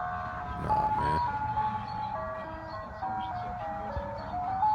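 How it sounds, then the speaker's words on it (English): An ice cream truck plays its tinkling jingle as it drives along a street at night, a steady melody over a continuous low engine and road rumble. "That's why the ice cream trucks are out there."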